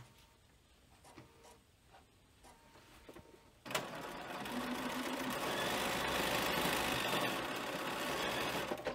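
A sewing machine stitching a fabric frame bag starts after quiet handling sounds and then runs as a steady, fairly loud mechanical whir to the end.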